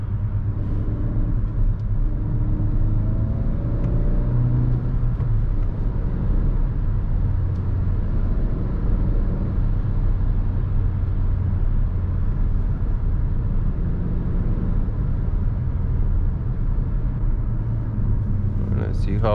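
A Suzuki Vitara 1.4 Turbo Allgrip SUV with a six-speed manual drives and corners through city streets, giving a steady low engine and road rumble heard from inside the cabin, with someone talking over it.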